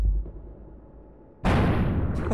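A shotgun blast in the Buckshot Roulette video game, a heavy booming discharge that bursts in suddenly after a low rumbling lull and rings out loudly to the end, with no voices.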